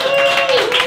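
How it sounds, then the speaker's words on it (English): Audience at a live comedy talk show applauding at the start of the evening: a brief, steady wash of close clapping from a crowd, with a faint tone running underneath. "Give yourselves a big round of applause"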